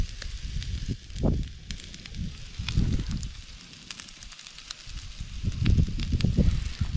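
Beef suet melting and sizzling in a spoon held over an open campfire ringed with stones, a soft steady crackle and hiss with intermittent low pops and rustles, close by and alone.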